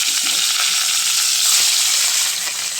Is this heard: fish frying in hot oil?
yes